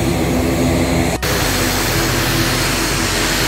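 Aircraft engine noise fills the air at Fakfak Airport as a steady, loud, broadband roar with no pauses, apart from a brief click early on.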